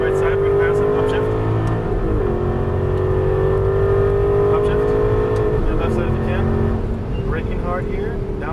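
An Aston Martin V8 Vantage accelerates hard on a Las Vegas race track, its V8 engine climbing in pitch, dipping through an upshift and pulling again, loud and close from inside the car, with a driving instructor talking over it.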